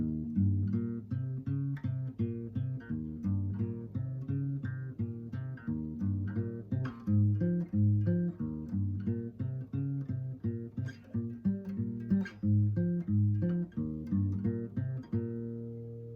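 A guitar plays a plucked melody over a steady, repeating low bass line, both parts played together at a relaxed pace with no voices.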